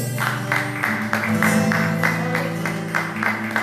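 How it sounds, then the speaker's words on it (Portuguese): Church congregation clapping in time to the Lord, rhythmic hand claps landing on a steady beat over organ or keyboard music with held tones, fairly loud and close. "palmas ao Senhor"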